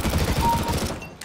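Counter-Strike: Global Offensive gunfire rattles in a dense, rapid burst, loud and continuous for about a second before it cuts off.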